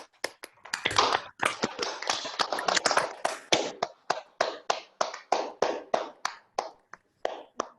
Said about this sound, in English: I would like everyone to open their mics and clap